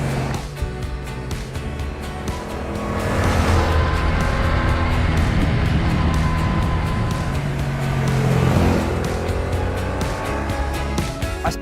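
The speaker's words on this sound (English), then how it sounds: "We've got Aprilia's RS660 and Yamaha's new R7." Aprilia RS660 and Yamaha R7 supersport motorcycles run their engines loudly and steadily, with rising and falling revs throughout and no talk over them.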